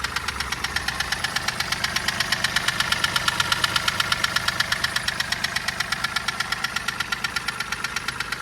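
A Mahindra TUV300 three-cylinder engine idles close up, with a rapid, steady metallic knocking from piston slap that ticks evenly over a low engine hum.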